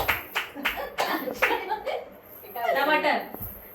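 People at a kitty party clap in a few short, sharp bursts, followed by nearby chatter and laughter.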